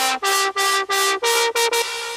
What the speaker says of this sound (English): Just a happy hardcore lead,